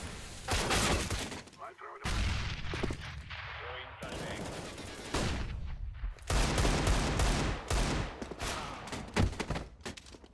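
Counter-Strike match gunfire: dense bursts of rapid automatic shots and single cracks come in several loud clusters with brief gaps between them, close and harsh, with game effects mixed in.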